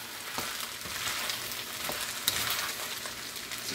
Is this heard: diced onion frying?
yes